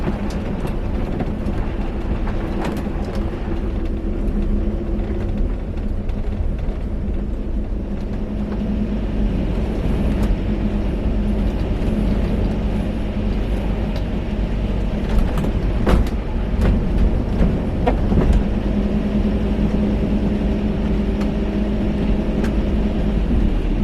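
Cabin noise of a moving Hymer S700 camper: a steady low road rumble and engine drone with occasional knocks and rattles throughout.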